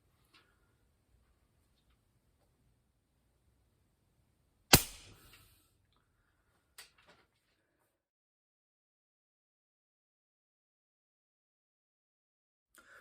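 An air gun fires a pellet with a single sharp crack in an otherwise quiet setting, followed a couple of seconds later by a faint click.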